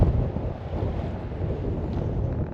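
Strong wind buffeting the microphone on a mountain rooftop, a continuous heavy low rumble and roar that stays loud and unbroken throughout.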